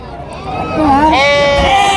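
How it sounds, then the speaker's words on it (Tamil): A Nellore Judipi sheep bleats loudly and close at the Gudur sheep market, one drawn-out wavering cry with a person speaking alongside. "ஃபுல்லாக செம்மறி ஆடு தான் கைஸ்."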